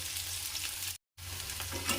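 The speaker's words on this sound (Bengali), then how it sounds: "আলুগুলোকে আমি ভালো করে নাড়াচাড়া করে নিচ্ছি। একটু ভাজা ভাজা হয়ে যাবে" Potatoes fry in oil while being stirred, producing a steady, soft sizzle with scraping movement, briefly cut to silence in the middle before resuming.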